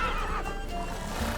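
Roach, Geralt's horse in The Witcher 3: Blood and Wine, lets out a loud close neigh and whinny over galloping hoofbeats during a chase.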